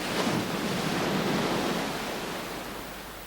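Ocean waves break steadily on a beach where spawning fish come ashore at the high-water mark, a dense, loud surf wash filling the whole clip and easing off slightly toward the end.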